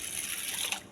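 Water is poured over toor dal in a kitchen to wash it, making a brief, close, hissing trickle that lasts under a second with no voices.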